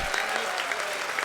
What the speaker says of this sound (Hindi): समर्थन में एक बार जोरदार ताली बजा दो।